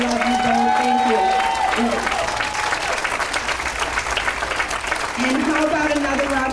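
Warm, sustained audience applause at a dinner celebration, loud and steady, with a speaker's voice carrying over it at the start and again near the end.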